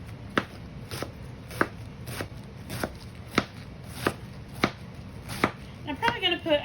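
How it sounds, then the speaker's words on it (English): A knife shreds cabbage on a cutting board in quick, steady chops, about two per second, close and crisp over a low background hum, with a brief rustle of leaves at the end. "So we're going to shred the cabbage"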